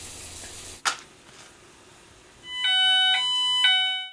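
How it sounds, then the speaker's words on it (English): A Nittan dual optical fire alarm sounds after a smoke test, starting with a single sharp knock, then loud, close, repeated electronic beeping pulses in an even rhythm. "Within seconds, the dual optical alarm goes off."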